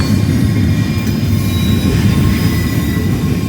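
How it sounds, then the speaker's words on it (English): Two trains pass each other, a loud continuous rolling rumble with steady metallic wheel squeal and a faint clickety-clack, sustained close by throughout. "So I don't know if we call this a meet or one passing another, or a train race"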